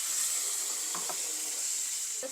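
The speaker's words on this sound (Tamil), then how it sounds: "இப்போ இதை நான் எண்ணெய் கொஞ்சம் கடுகு கொஞ்சம் சேர்த்து இதை நான் கொஞ்சம் வதக்கி எடுக்க போகிறேன்." Onion chutney sautés in hot oil with mustard seeds, giving a steady, even sizzle with a few faint pops and clicks near its end, without any talking.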